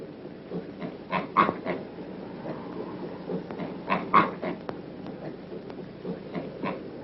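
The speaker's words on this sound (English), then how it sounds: "Boys from the city, not yet caught in the whirlwind of progress, feed soda pop to the thirsty pigs." Pigs fed soda pop by boys grunt and snort in uneven clusters, with wet slurping and snuffling sounds in between, moderately close over a murky background.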